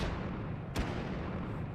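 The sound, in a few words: RPG-7 rocket launcher firing in video game H3VR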